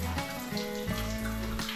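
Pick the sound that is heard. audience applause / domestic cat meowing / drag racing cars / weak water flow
weak water flow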